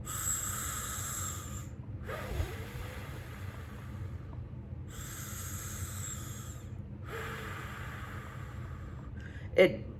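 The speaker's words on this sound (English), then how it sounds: "So purse your lips and then breathe in and out." Pursed-lip breathing with slow, airy hissing exhales and inhales in long steady stretches, each separated by a short pause, close and fairly quiet, ending with a brief sharper sniff or click.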